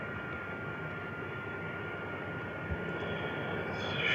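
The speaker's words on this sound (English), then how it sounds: "Very clean takeoff there." Steady broadband roar of an aircraft accelerating down a smooth runway on takeoff, continuous and fairly distant, swelling slightly toward the end.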